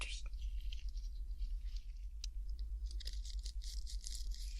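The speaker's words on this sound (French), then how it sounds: "c'est bien la brosse à dents que je vais utiliser pour toi" A toothbrush brushing teeth in a French ASMR dental-cleaning roleplay, soft close-up bristle scrubbing and patter in short strokes under a low steady hum, with no speech.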